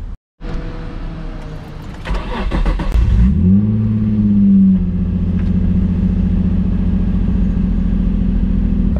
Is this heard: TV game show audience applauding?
no